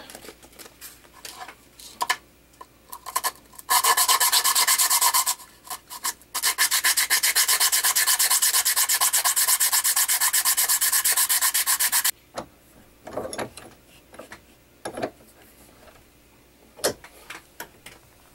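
Sheets of 120-grit sandpaper rubbed by hand over a small wooden board, a close, loud, steady scratching in two long sustained bursts, with scattered shorter rubs and taps around them.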